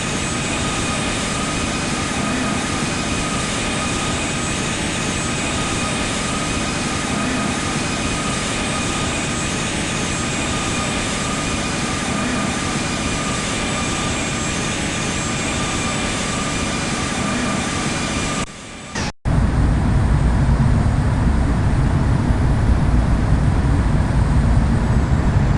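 A jet airliner in Jet2 Airlines livery taking off from the runway at KSAN in the Infinite Flight video game, with a steady loud engine roar and whine throughout that swells into a heavier rumble near the end.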